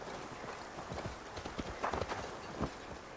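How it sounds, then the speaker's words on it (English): Horse hooves clip-clop in Assassin's Creed Valhalla, a quick irregular run of close, distinct thuds over a faint game background, with no talking. "Call the horse."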